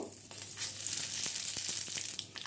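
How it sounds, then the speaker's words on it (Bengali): Whole spices and a torn bay leaf frying in a spoonful of hot oil, a close, soft sizzling hiss broken by a few quick crackles and stirring scrapes, no voices. "দিয়ে দেখুন ফোড়নটাকে ভালো করে ভেজে নিলাম"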